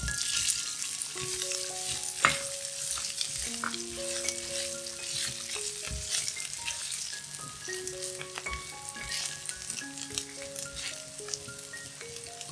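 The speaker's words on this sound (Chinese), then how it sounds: "待油热后放入猴头菇煎一煎。" Lion's mane mushrooms pan-frying in hot oil for a vegetarian three-cup dish, a close, steady sizzle and crackle with occasional sharper spits and the scrape of stirring, no voices.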